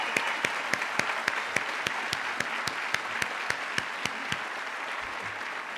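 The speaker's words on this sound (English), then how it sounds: "We thank you and applaud you all." An audience applauds veterans standing at a 2015 Sussex County Community College commencement ceremony; separate, evenly spaced claps ring out over a steady hall hiss.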